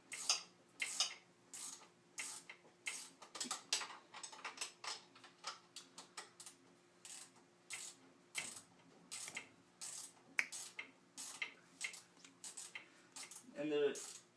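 Repeated ratcheting from a wrench working a bolt loose during disassembly of a 2013 KTM 250SX motocross bike, a steady run of quick mechanical clicks in short bursts, close by with no talking.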